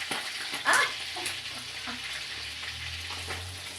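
Fish fries in hot oil for breakfast with a continuous close sizzle and bubbling, plus a sharper spatter burst near the start, and no talking over it.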